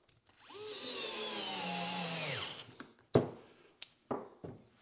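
A Dewalt DCF682N1 cordless screwdriver whines steadily as it drives a drywall screw into a piece of 2x4, a sustained motor whir that rises and then winds down, followed by a few sharp knocks and clicks.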